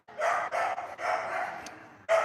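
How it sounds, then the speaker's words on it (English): A very vocal dog barks loudly and close in a few long, harsh bursts, with a short gap before a final bark. "Just a dog that's very vocal."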